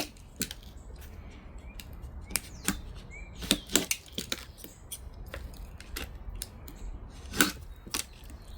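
EVA foam being cut for jon boat modifications, heard as sharp, irregular snipping clicks and crisp cuts close by over a faint background, with no speech.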